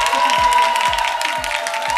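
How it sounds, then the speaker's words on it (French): A studio audience at a live midday TV show applauds over music with a steady, pulsing bass beat and a sustained tone, the claps dense and fairly loud. "c'est la puissance de vos applaudissements"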